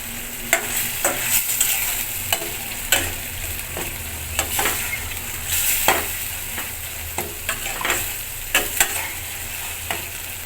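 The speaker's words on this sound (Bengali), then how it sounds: "এখন আমি জল দিয়ে দিব।" Catla fish kalia masala, fried down until the oil separates, sizzling in a pan, with a steady hiss and frequent sharp spatula scrapes and clinks while it is stirred.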